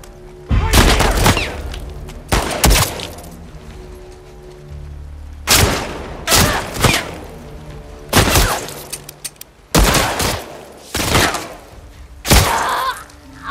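Gunshots ring out in the video game The Last of Us Part II, several loud, sharp bursts and single cracks spaced irregularly across a courtyard fight, with quiet gaps between volleys.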